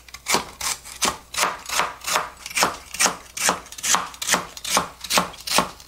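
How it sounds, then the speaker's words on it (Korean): A knife slices lotus root thinly on a cutting board, giving about fourteen evenly spaced crisp cuts in a steady rhythm, close and clear with no talking. "얇게 썰겠습니다."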